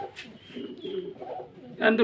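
A female red indigo pigeon gives low, throaty coos close by, a voice talking over part of it, ending in a louder burst.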